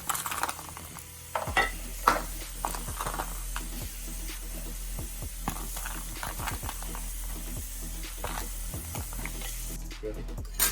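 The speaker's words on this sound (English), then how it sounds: "when the steak is halfway cooked, I add a little bit of onion for flavour" Steak and onion frying together in a pan, a steady close hiss with scattered clicks and scrapes running throughout and no voices.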